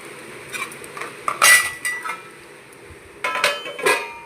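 Tomatoes are stirred in a cooking pan while making tomato coconut chutney, giving scattered clinks and scrapes of a utensil against the pan, with a louder burst of clatter in the middle and another near the end.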